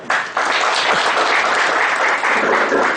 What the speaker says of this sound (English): A big applause, members